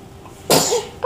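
A single sharp sneeze bursts out close by after a quiet moment, followed by the start of a short sound right after.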